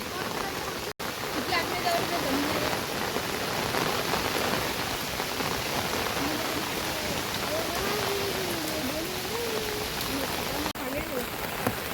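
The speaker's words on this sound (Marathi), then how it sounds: "हे बघ किती पाणी वाहते फास्ट" A swollen river in flood near the Palghar–Manor road rushes past, making a dense, steady roar of fast-flowing water throughout, with faint voices of people talking underneath.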